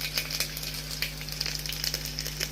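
Whole garlic cloves fry in hot oil for khichdi, with a bay leaf already in the pan. The sizzle is constant and close, with rapid popping crackles throughout.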